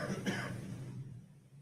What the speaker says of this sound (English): I hear coughing.